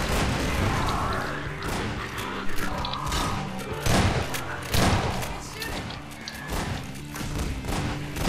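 Gunfire from Half-Life 2 bursts out in repeated thumping volleys with heavy booms and crashes, loud and busy over a dense game soundscape of music and effects, with no voices.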